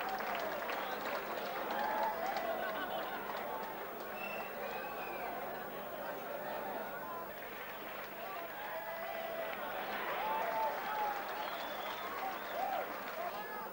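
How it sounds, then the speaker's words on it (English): A boxing crowd applauds steadily after the first round of a cruiserweight contest, a dense, sustained wash of clapping mixed with crowd chatter that holds at a moderate level throughout. "the crowd applauding a very good first round in this cruiserweight contest"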